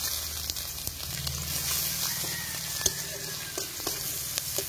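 Chopped onion frying gently in chicken fat with whole cumin, a dried chili and bay leaf, a soft steady sizzle with occasional crackles and light stirring taps close by.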